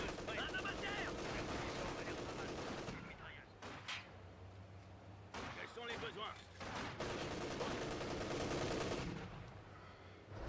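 Rapid machine gun bursts rattle loudly in the Company of Heroes 2 game, forming dense sustained volleys that break off briefly around the middle before resuming heavily, with scattered battle noise and a voice faintly underneath.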